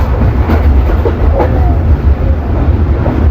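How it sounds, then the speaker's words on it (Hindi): The Tezgam 8 Down express rolls along the rails toward Gujar Khan, a loud, close, continuous rumble with faint rhythmic clatter from inside the moving carriage. "आज हम लोग 8 डाउन तेज़ गाम एक्सप्रेस में सफ़र कर रहे हैं गुजर खान के लिए"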